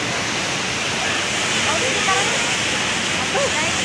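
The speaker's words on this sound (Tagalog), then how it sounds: "Ang tawag po guys sa falls na to ay Taytay Falls." Taytay Falls in Majayjay, Laguna roars as a steady, broad rush of falling water close by, constant and loud throughout, with faint voices under it.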